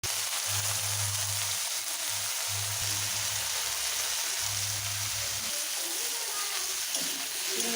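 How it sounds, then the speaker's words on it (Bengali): Prawns frying in oil in a wok, a steady broadband sizzle and crackle running throughout, with low voiced talk breaking in and out underneath the frying. "এবার চিংড়িগুলো আস্তে আস্তে ভেজে নেব।"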